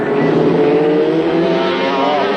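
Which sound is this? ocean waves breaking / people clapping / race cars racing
race cars racing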